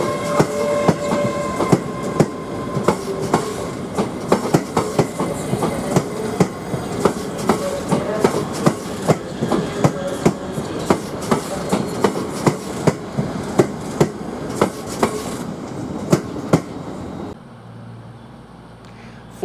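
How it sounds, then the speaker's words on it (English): A LNER Class 801 Azuma train pulls out of a station platform, rumbling with a continuous run of sharp clickety-clack wheel beats over rail joints, before the sound drops away abruptly near the end. "Forming services to King's Cross, LYR Class 801 Azuma 801205 leaves with the 1300 service to King's Cross"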